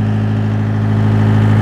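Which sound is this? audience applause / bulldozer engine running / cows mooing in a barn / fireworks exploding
bulldozer engine running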